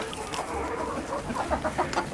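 A broody hen clucks in low, irregular grumbles close by, amid soft rustling and background noise, with no one speaking.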